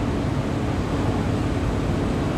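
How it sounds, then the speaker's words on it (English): A big semi truck overtakes a Suzuki Carry non-turbo mini truck on the highway, a loud, steady broadband rush of wind and tyre roar that holds evenly throughout without any talk. "Here's a big semi's gonna pass us."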